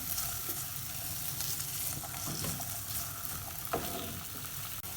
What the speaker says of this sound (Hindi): 2 से 3 मिनट तक इसको हम ऑयल के अंदर फ्राई करेंगे।